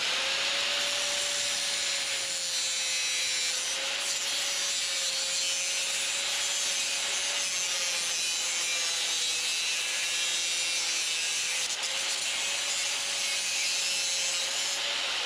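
Steady sawing strokes trimming the housing of an old car radio in a shop setting, a continuous rasping cut with a faint tonal whine running underneath, close and alone without talk.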